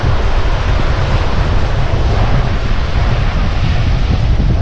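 Steady roar of surf and incoming tide waves at Mousuni Island with strong wind buffeting the microphone, continuous and loud, no voices.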